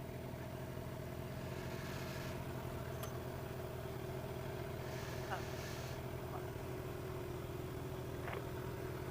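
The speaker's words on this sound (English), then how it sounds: "The bike's just idling." A Suzuki GSX-R750 motorcycle engine idling: a faint, steady low hum runs throughout with no throttle changes, under wind noise and a rider's speech.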